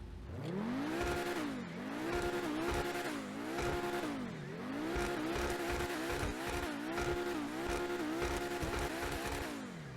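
A high-revving Pegassi Torero XO sports car engine in GTA Online roars repeatedly, rising and falling through the gears in long sweeping pulls, loud and close throughout.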